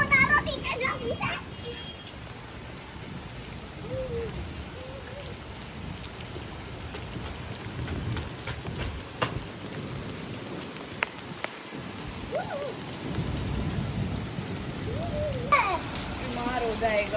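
Steady rain falls and patters on surfaces throughout, with children's voices and playful talk mixed in over the constant wash.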